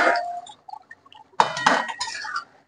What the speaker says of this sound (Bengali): ঢাকাটা খুলে দেখবো চিকেনটা কতটা রেডি হয়েছে।